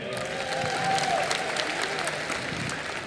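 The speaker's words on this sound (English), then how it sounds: "Round of applause once again." Audience at the International Film Festival of India closing ceremony gives a warm round of applause, dense continuous clapping with a brief voice over it, moderately distant.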